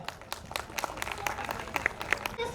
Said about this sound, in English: Please give them a huge round of applause, kids.